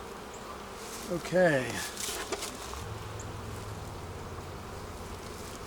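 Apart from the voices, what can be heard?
honeybees buzzing in an opened beehive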